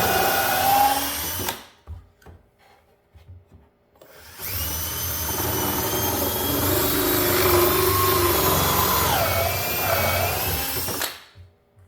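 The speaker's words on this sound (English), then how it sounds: "as I was drilling a couple drain holes" A power drill whirs in a short burst, pauses briefly, then runs steadily for several seconds drilling drain holes in a wooden bluebird house with a grinding, bit-in-wood quality before stopping abruptly.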